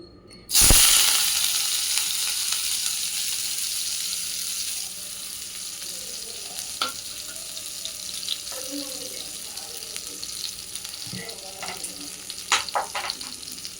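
Loud sizzle bursts in as dried chillies and vadagam hit hot oil for tempering, then settles into a steady crackling fry with scattered pops and stirring clicks, no talking.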